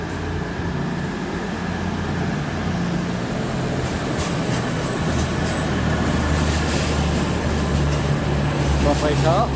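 A 5-car passenger train rumbles past at Nottingham station, a steady loud rolling roar with faint wheel squeal, while someone talks over it.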